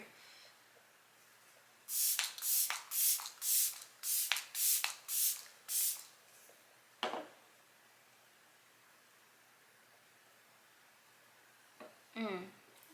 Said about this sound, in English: I kind of go ham with my setting spray